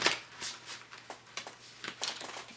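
A fairy tarot card deck being shuffled by hand, a series of soft, irregular riffling and sliding bursts of paper cards, close and fairly quiet, with no talking.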